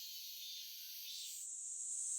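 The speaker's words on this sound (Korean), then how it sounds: "장마가 끝나면 색이 짙어진 매미도 본격적으로 활동을 개시합니다." Cicadas buzz in a Korean wetland, a steady high droning chorus that shifts pitch midway and carries on unbroken at moderate loudness, with no voices.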